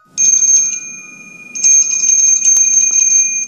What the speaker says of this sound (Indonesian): lagi-lagi mendengar suara lonceng itu